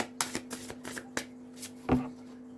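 A deck of tarot cards being shuffled by hand, several quick riffling bursts with soft papery flicks at an uneven rhythm, close and fairly quiet over a low steady hum.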